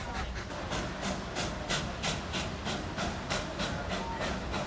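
A narrow gauge steam train idles in the Durango–Silverton railroad yard on a busy morning, giving off a steady hiss. Sharp rhythmic chuffs or clanks repeat at an even pace and carry across the yard, with no voices over them.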